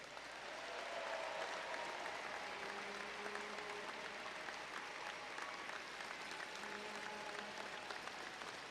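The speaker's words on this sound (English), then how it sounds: "Please give them a round of applause." A large crowd at a hockey championship celebration for the Hershey Bears Calder Cup win applauds continuously in an arena, a broad steady wash of clapping with faint voices and a few tonal calls beneath it.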